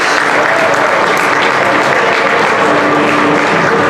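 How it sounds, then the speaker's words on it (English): Audience applause for the silver medal winners at an SVG International 2016 tabletop gaming championship ceremony, a dense, steady wash of clapping from a crowd that carries on at full strength for the whole stretch. "Give those guys an applause."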